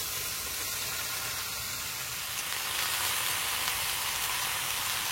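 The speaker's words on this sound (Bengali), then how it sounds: "কুচানো রসুন, পেঁয়াজ কুচানো, পেঁয়াজ, রসুন, কাঁচা লঙ্কা, কালো জিরে সব একসঙ্গে ভালোভাবে ভেজে নিচ্ছি।" Garlic, onion, green chili and nigella seeds fry together in oil, giving a steady broad sizzle that runs unbroken and fairly close, a little brighter in the second half as taro flower goes into the pan.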